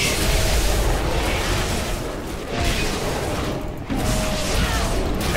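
A loud, sustained rumbling explosion in World of Warcraft: Legion, with roaring, crackling debris that swells and surges in waves without any pause.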